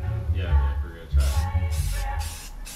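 Aerosol spray paint is used as primer in several short, close hissing bursts, one after another, over a low rumbling background with faint voices.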